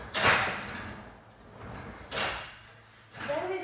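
Pilates reformer carriage rolling and its springs pulling it back during unresisted footwork in parallel position: three separate whooshing slides, each ending in a soft clunk, close by with quiet gaps between.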